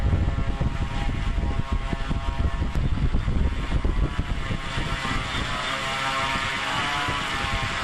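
A scratch-built STOL model plane's electric propeller motor runs at about half throttle, a loud, close, steady buzzing whir with a broad airy rush that holds constant for several seconds.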